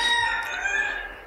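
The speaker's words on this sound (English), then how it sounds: "You can probably hear my chicken farm." A rooster crows loudly and close by at a chicken farm in Vietnam at early morning, one long ringing call with no talking over it.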